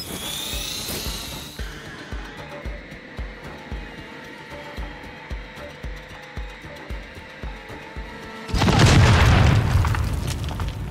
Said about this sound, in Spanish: Les voy a botar un troncito bomba